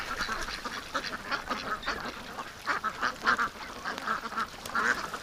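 A flock of female ducks kept outdoors in the rain quacks repeatedly in overlapping, uneven bursts, close and fairly loud over a wet background hiss.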